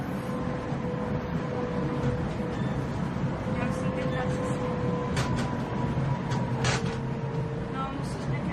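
Trams rumbling through Prague streets in winter, a steady low mechanical drone with a few faint squeals and clanks of rails, heard under a narrating voice.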